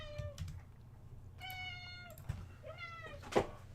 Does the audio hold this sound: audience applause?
no